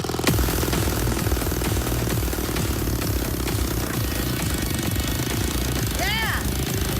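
A homemade motorcycle runs as it drives, its engine giving a loud, steady, rapid chugging rattle throughout. A voice comes in briefly near the end.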